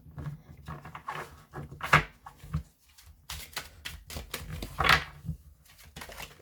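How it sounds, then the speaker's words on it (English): A deck of pick-a-card cards is shuffled by hand in several quick riffling bursts, close and crisp, separated by brief quiet gaps. "So I'm going to give it a quick shuffle"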